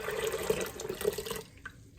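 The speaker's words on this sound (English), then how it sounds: "I'm gonna pour that in the Instant Pot that has been sanitized properly." Sweetened juice is poured into an Instant Pot to make wine, a steady close splashing stream for about a second and a half that then stops abruptly, followed by a few faint drips.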